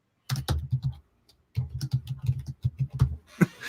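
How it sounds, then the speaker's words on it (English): Fingers typing on a computer keyboard in quick, close bursts of clicking keystrokes, with a one-second pause between two stretches of typing. "He's typing."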